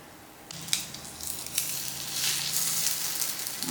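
French toast frying in a pan right after being flipped, a steady soft sizzle with light crackles that swells a little partway through, close and alone with no talk.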